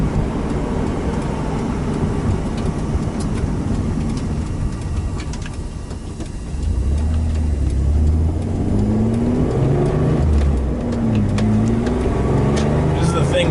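A car with a swapped naturally aspirated Subaru EG33 engine drives with no hood, its engine a steady close drone that climbs in pitch partway through, with road and wind noise throughout.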